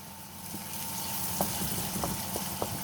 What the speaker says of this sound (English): Just fry these down now until they're translucent.